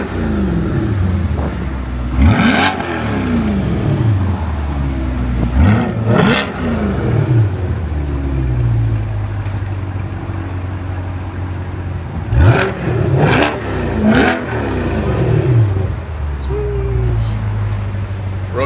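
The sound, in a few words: Corvette engine revving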